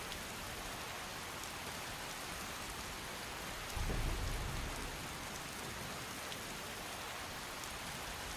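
Steady rain hisses evenly throughout in a video game set in Tamriel with a weather mod, with a single low rumble of thunder swelling briefly midway before fading back into the downpour.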